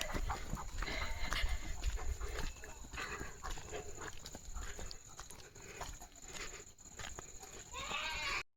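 A goat bleats a few times in a noisy outdoor farmyard at night, with other animal sounds and a faint background voice.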